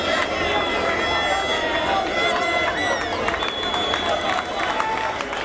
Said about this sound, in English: As you can hear, the crowd is wild.